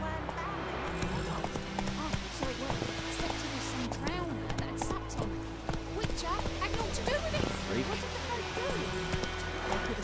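Roach, a horse in The Witcher 3, clip-clops steadily through the whole stretch, close and continuous, with a voice, ambient game sound and music running along beneath it.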